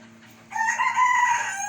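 Laying hens kept in a small rooftop setup give a drawn-out, close clucking call over a faint steady hum.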